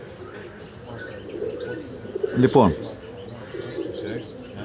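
Pet birds kept in a cage in Larisa, with one short, bright cooing call rising midway over a murmur of quiet chirps, while someone talks nearby.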